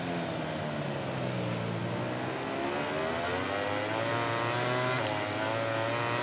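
Racing motorcycle engines roar continuously in MotoGP 18 at the Austrian round, a loud dense drone with rising and falling pitch as bikes accelerate and shift gears, no voices over it.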